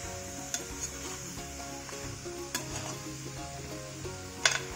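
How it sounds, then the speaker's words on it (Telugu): A spoon stirs chicken curry gravy in a pan on the stove, making soft scraping and clinking against the metal over a quiet sizzle, with occasional sharper taps, faint and close. "బాగా మిక్స్ చేసుకుందాం, వేసేసాం కదా బాగా కలిసేటట్టు కలుపుకుందాం"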